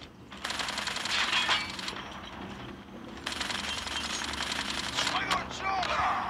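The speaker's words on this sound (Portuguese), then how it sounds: "Caraca, eu dei dois tiros no cara." Automatic sniper rifle firing in COD Mobile gameplay, with bursts of rapid, crackling gunfire in two long stretches plus a few sharper shots near the end, set against game background sound.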